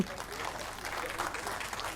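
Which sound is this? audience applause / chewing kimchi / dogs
audience applause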